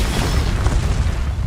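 Blasting spell explosions from Confringo and Bombarda in Hogwarts Legacy, a dense, continuous low rumbling boom that stays loud throughout without a clear break.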